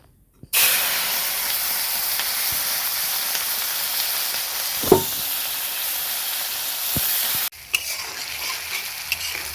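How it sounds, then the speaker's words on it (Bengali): Chopped onion, green chili and tomato sizzle steadily in hot oil, a loud continuous frying hiss with an occasional stir or clink, cutting off abruptly near the end before a quieter sizzle resumes. "পেঁয়াজ কুচি, কাঁচা লঙ্কা, টমেটো দিয়ে দেবো।"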